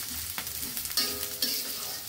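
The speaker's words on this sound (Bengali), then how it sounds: "এবার কড়াইয়ে আবার একটু সয়াবিন তেল দিয়ে দিব। তারপর দিব পেঁয়াজ ও কাঁচামরিচ কুচি।" Chopped onions and green chilies sizzle in soybean oil in a wok, a steady close frying hiss broken by a few sharp stirring scrapes.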